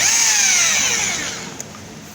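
Cordless power screwdriver driving long screws into a zinc sheet patch on the back panel of a washing machine: a loud, high whine that winds down and fades over about two seconds, ending with a faint click.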